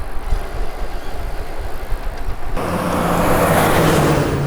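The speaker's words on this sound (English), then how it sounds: "we got all these annoying loud trucks driving by" Loud trucks rumble past a bicycle on the road, a steady broadband roar that swells abruptly and stays heavy as a vehicle draws close.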